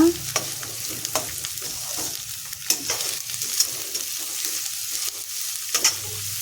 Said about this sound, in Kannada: ಇದಕ್ಕೆ ಈರುಳ್ಳಿಯನ್ನು ಸೇರಿಸ್ಕೊತಾ ಇದ್ದೀನಿ ಎಲ್ಲವನ್ನು ಚೆನ್ನಾಗಿ ಫ್ರೈ ಮಾಡ್ಕೊಳ್ಳೋಣ